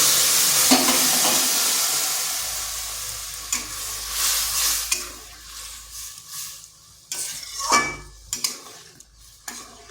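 Potatoes hiss and sizzle in a hot pan with chilli, cooking for an egg dish, with sharp scraping stirs and clinks of a utensil against the pan, loud up close and fading to quieter, intermittent scrapes.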